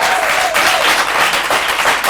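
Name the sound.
audience applauding at an awards ceremony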